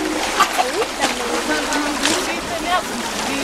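Splashing and sloshing as earth is sifted in river water in Madagascar, with repeated short splashes over a steady flowing background while someone speaks.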